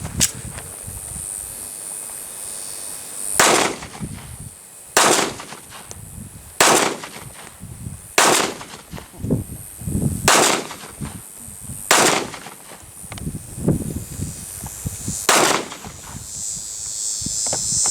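Gunshots from target shooting at 50 yards ring out outdoors, about eight loud sharp cracks spaced a second or two apart, separated by quieter stretches of faint background noise.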